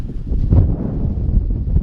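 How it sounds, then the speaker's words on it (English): Gusty wind buffets a microphone outdoors in open desert country, a steady low rumble with soft swells and brief thumps across the whole stretch, no talking. "Windy out here"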